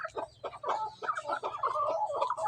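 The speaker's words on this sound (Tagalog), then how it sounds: "Ito yung mga sisiw." Hens and chicks clucking and peeping close by in a rapid, irregular run of short calls, fairly quiet and with no one talking.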